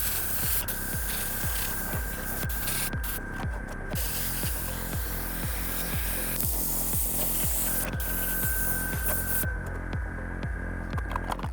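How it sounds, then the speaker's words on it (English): An airbrush sprays Tamiya XF56 metallic gray paint onto a model ship, making a continuous close hiss. A rhythmic pulsing thump from a compressor runs steadily beneath it, and the spray stops and starts in short bursts. "I'm going to paint that large band with the metallic gray, and I'm going to airbrush that on there."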